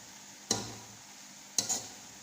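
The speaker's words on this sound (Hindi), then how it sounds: "चीनी डालने के बाद बस आपने फ्लेम को मीडियम रखना है और इसमें मुसलसल चम्मच चलाते रहना है।" A spoon scrapes through sweetened carrot halwa in a pan over a medium flame, two short distinct strokes about a second apart against a quiet background.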